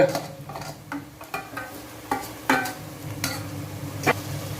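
Chopped tomatoes stirred in a hot pan, with several distinct scraping and clinking stirs over a soft background sizzle, close and moderately loud, no talking.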